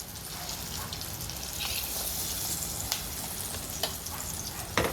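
Buffalo chicken wings deep-frying in hot oil, a steady close sizzle with occasional sharp pops and crackles, heard alone without talk.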